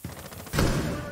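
Gunfire in Rainbow Six Siege, a short loud shot followed by a sustained burst ringing out close by, brief and abrupt.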